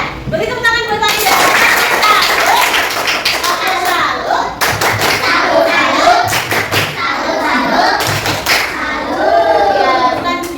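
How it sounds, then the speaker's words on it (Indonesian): Classroom group clapping for a presenter, brisk uneven claps and thumps from a small crowd of children and adults, mixed with lively chatter and a speaking voice throughout. "Beri tepuk tangan buat Farida"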